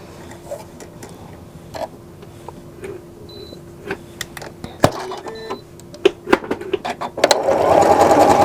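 Domestic sewing machine stitching a decorative heart pattern on fabric, running in short bursts with clicks and pauses, then a steady close whir as it sews continuously at the end.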